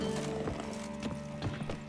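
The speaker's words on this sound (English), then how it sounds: "Calm the horses." Horses in The Witcher 3, a sustained whinny followed by a handful of hoof clops and shuffles, close and moderately loud over a steady ambient hum, with no voices.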